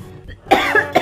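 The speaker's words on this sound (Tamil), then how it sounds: "தீ விட்டோம்னா இப்படிதான் இருமல் வரும்." A person coughs from frying smoke while heating oil in a kitchen, two or three short, harsh close coughs coming after a quiet moment.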